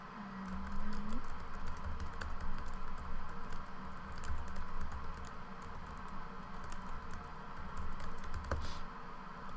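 Soft, steady keyboard typing runs throughout, quick light key taps in an irregular patter at close range with no voices.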